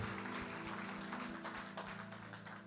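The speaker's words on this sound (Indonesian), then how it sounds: "kita boleh kasih tepuk tangan buat kemuliaan nama Tuhan" A church congregation breaks into applause during a sermon, a brief burst of hand clapping over a steady organ or keyboard chord in a reverberant hall.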